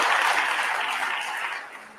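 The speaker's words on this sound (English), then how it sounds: "let's give them a round of applause for having done all this work" Applause from a convention audience at a national dialogue gathering, a steady broadband wash of many hands clapping that fades slightly toward the end, with no voices over it.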